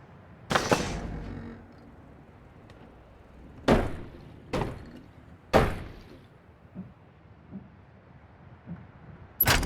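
A locked door in A Fisherman's Tale game, five sharp rattling thunks arriving at irregular intervals with soft knocks between them, close and alone with no speech.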